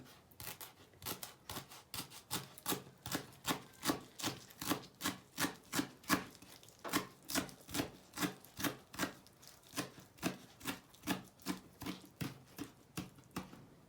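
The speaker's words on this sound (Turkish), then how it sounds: "küçücük maydanozum var. Onu incecik kıyıyorum." A knife chops a small bunch of parsley finely on a board in quick, even, rhythmic taps, about two per second, close and fairly soft, with no talking.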